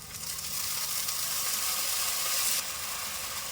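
A spiced bottle gourd kofta mixture with garlic and ginger paste sizzles steadily in a pan after a little water goes in, a bright, fairly loud hiss that eases slightly near the end, with no voices.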